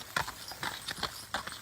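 Horses' hooves clip-clop on a farm, where four male horses pass near a gate. The sharp, uneven hoof strikes come close together at a walking pace over quiet background.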